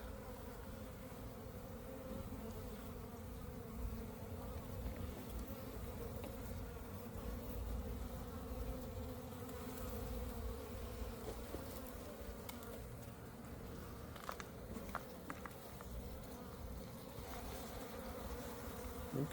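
Honey bees swarming around a beehive being relocated, a dense continuous buzzing drone that holds steady throughout at moderate volume, with a few faint knocks and handling sounds.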